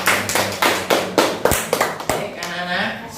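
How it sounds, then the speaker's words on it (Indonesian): Hands clap in short separated bursts for a presenter in a classroom lesson, about seven sharp pulses at an uneven pace, with talk running underneath. "Tepuk tangan yang meriah untuk Mas Hekal."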